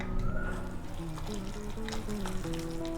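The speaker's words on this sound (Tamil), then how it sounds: "தண்ணி விட்டுக்கலாம்." Water poured into a bowl of idli batter during mixing, a steady trickling pour close by, with faint clinks and a low background hum.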